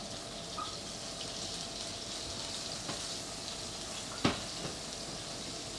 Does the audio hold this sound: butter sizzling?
yes